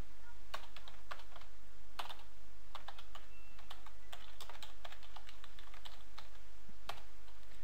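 Typing code on a computer keyboard, scattered uneven keystrokes and short clusters of taps over a steady low hum, close and fairly crisp, with no talking.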